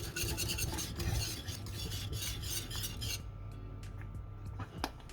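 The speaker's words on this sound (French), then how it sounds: "je mets la casserole à feu moyen et je ne cesse pas de mélanger jusqu'à ce que la crème épaississe" Mango cream stirred in a saucepan over medium heat, a steady close scraping and rubbing of utensil against the pan that thins out toward the end, with no talk.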